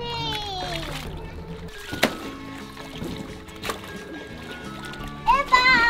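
A child plays in a pool, with several bursts of water splashing and sloshing mixed in among excited children's voices and high squeals.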